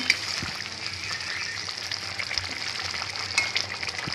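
Bhetki fish cooks in a mustard-poppy curry in a pan, giving a steady bubbling sizzle with faint stirring knocks, continuous and fairly close throughout.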